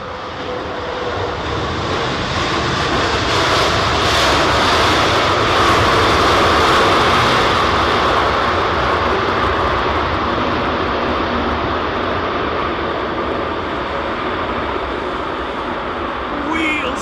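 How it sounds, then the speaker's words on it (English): A WestJet Boeing 787 arriving from Calgary lands at Heathrow during Storm Isha, a loud, sustained broadband engine roar mixed with heavy wind noise, with a voice faintly under it. "This is WestJet's 787 in from Calgary,"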